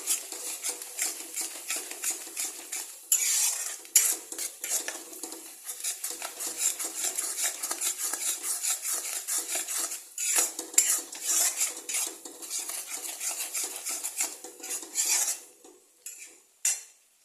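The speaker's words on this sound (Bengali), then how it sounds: "দিয়ে আমি এখন এটাকে আবার ভালো করে একটু নেড়ে নেব" Mutton being stirred with chili powder in a metal pan, with a spoon scraping and clinking against the pan in steady, busy strokes. The sound is close and fairly loud and stops in brief pauses between bursts.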